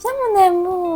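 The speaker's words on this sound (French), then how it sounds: "Bon, désolé, c'était mon chat." A pet cat gives one drawn-out, wavering meow up close while someone speaks softly over it.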